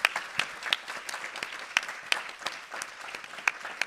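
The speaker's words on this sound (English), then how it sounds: "let's just give them a big round of applause" Audience applause at a memorial celebration, a moderate, scattered clapping with a few sharp individual claps standing out from the steady patter.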